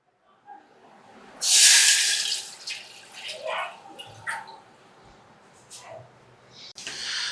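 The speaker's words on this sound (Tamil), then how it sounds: "தண்ணி ஊற்றிக்கலாம்." About 250 ml of water splashes and pours into a cooking pot in short bursts, with a louder gush early on followed by smaller trickles and drips, close by.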